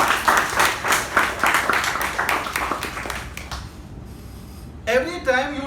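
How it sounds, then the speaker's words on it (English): At a Toastmasters installation ceremony, a room of members claps for two Toastmasters, a rhythmic round of applause that fades out after a few seconds, followed by a voice starting to speak. "let's give a nice round of applause to both Toastmaster Lakshmi and Toastmaster Mamta"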